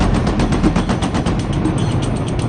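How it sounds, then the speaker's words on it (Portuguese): A long, sustained burst of automatic machine gun fire, roughly 34 rounds, fired as a wall of fire in rapid, even succession, loud and dense for the whole stretch. "Soltei uma rajada longa de 34 tiros."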